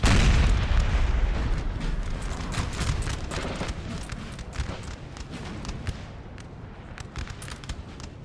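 Battlefield gunfire and cannon fire in the Napoleonic war game Napoleon's Eagles, Battle of Auerstedt: a loud opening boom fading into a dense, continuous crackle of musket volleys and distant artillery rumble, with no speech.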